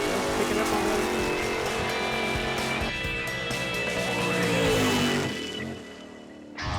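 A drag race car at Area 51 Dragway in New Mexico makes a pass down the strip, its engine a loud, sustained roar that holds steady for several seconds and then fades away toward the end.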